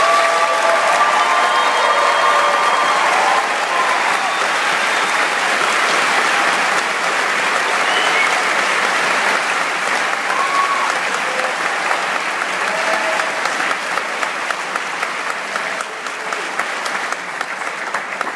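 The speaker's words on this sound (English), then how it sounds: "Let's give these students a nice round of applause." At a 2019 commencement ceremony, an audience applauds the graduating valedictorians and salutatorians with long, steady clapping across a large hall, thinning slightly toward the end as scattered claps stand out.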